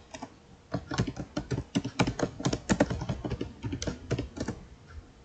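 Fingers type on a computer keyboard while downloading Debian, a quick irregular run of crisp, close key clicks in bursts with brief pauses and no voices.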